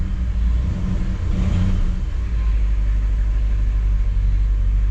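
A 1959 Chevrolet Bel Air with its 348 engine idling steadily in a garage after a V-belt replacement, a loud, continuous low rumble with a slight surge partway through.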